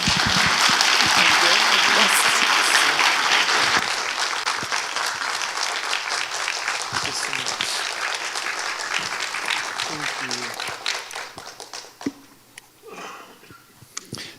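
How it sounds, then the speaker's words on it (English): Warm audience applause at the opening ceremony of a World Meditation Day forum, loud and dense for about four seconds, then settling into steadier clapping that thins and tapers near the end. "Please welcome him with a warm round of applause."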